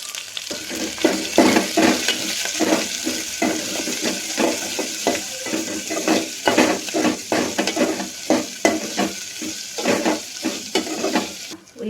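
Onions frying with cloves, chillies, mace, cashews and curry leaves for homemade chicken soup, a busy sizzle broken by rhythmic spatula scrapes and clinks against the pan.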